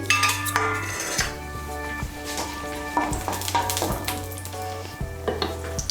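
Chopped onion hitting hot spiced oil in a pan for a Bengali potato curry, with a steady sizzle under clinks and scrapes of a spatula against the metal pan.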